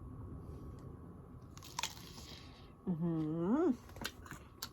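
Bite into a crunchy raw, unripe wild peach, giving a short crisp crunch up close, followed by a brief voiced murmur.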